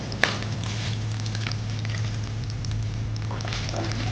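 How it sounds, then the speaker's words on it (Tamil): Dried red chillies frying in oil for a Madurai-style mutton uppu kari, giving a steady soft crackle and patter close by, with a few sharper pops over a constant low hum. "மிளகா ஓரளவு வதங்கிடுச்சு."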